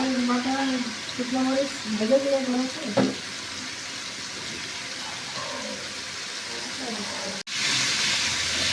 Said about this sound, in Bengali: আদা বাটা দিয়ে দিয়েছিলাম তেলের মধ্যে